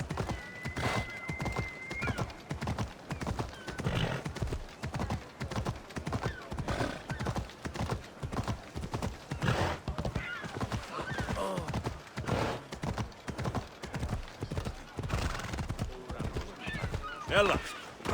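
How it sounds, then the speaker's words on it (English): Rapid clip-clop of a galloping horse in Assassin's Creed Odyssey, hoofbeats drumming steadily throughout, with neighing and a voice talking over the ride. "That's a nice horse"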